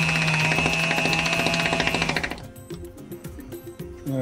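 A small rotary tool with a flexible extension whirs with a rapid buzzing vibration for about two seconds, then stops, leaving a few light clicks and knocks.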